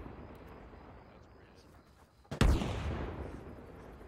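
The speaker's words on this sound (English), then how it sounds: "Who's throwing nades?" A single grenade explosion in the video game Arma Reforger bursts out suddenly after a quiet stretch of ambient noise, then rumbles and decays slowly over the next second and a half.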